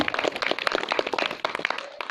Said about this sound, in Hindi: मैं पुनः दादा ध्रुवे के लिए जोरदार ताली चाहूँगा आप सबसे